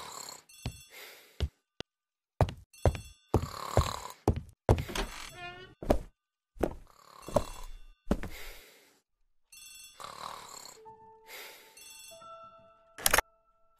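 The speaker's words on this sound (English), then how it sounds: "The telephone in the hall is ringing." A telephone ringing in a hall in The ABC Murders game, giving clear repeated bell-like rings separated by short silences, alongside other sharp isolated game sounds.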